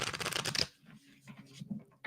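Tarot cards riffled in a quick burst of crisp shuffling at the start, followed by softer handling sounds and faint rustles.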